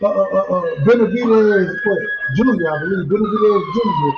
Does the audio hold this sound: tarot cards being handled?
no